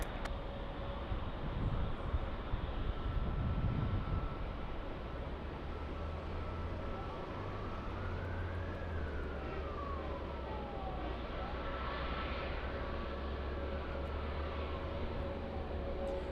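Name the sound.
Airbus A380 airliner at LAX airport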